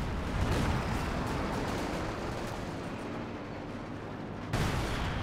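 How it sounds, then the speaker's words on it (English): An artillery barrage in Company of Heroes 2 pounding a mortar pit, a dense, continuous rumble of blasts with a fresh loud impact near the end. "The barrage is actually here onto the mortar pit."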